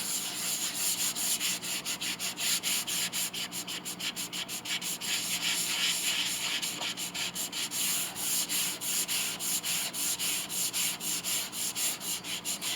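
Hand sanding of grain raised by thin alcohol-and-shellac size coats on the case of an 1867 Chickering 33B piano. Close, rhythmic back-and-forth rubbing strokes repeat steadily throughout.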